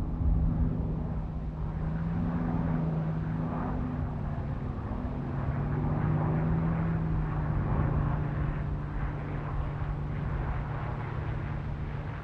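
Grumman F4F Wildcat fighter's radial piston engine drones steadily throughout, a continuous low propeller-aircraft hum with a strong, even tone and no speech.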